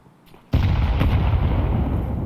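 Stacked grenades go off together in Counter-Strike, a sudden loud blast followed by a sustained, dense rumble that holds steady close by with no talk over it.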